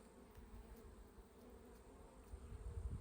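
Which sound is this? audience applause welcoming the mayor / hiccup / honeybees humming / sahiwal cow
honeybees humming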